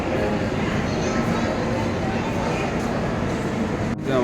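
Steady, loud rumble of an AC double-decker express train between Ahmedabad and Vadodara, with continuous rolling noise and a faint murmur of voices underneath, as if heard from inside a moving carriage.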